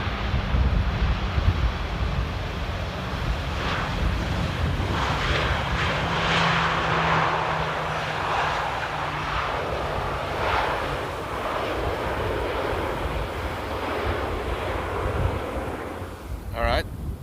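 An airplane lands at Amsterdam airport in strong wind, its engine roar rising and falling under heavy gusting wind noise on the microphone, sustained and fairly loud throughout.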